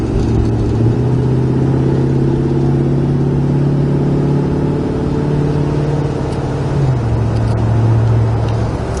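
1976 Dodge Charger cruising down a road, heard from inside the car as a steady low engine drone with droning tonal hum that shifts pitch slightly near the end, plus road noise throughout.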